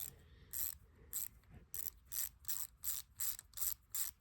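A socket ratchet clicks in a quick steady series of about nine bursts while a spark plug is tightened, close and fairly clear against a quiet background.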